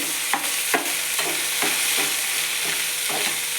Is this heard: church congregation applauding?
no